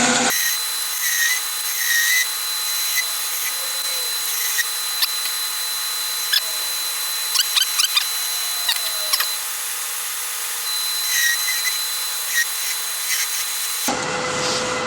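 Long wooden bed spindle being hand-turned on a lathe during repair of a 100-year-old bed, a steady close whirring scrape of the tool on spinning wood with brief sharper catches, no talking, ending abruptly.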